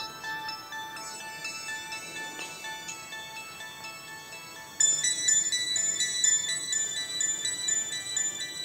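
A phone ringtone plays an incoming-call melody of bright repeated tones, steady at first and then louder and busier partway through, with no voices over it.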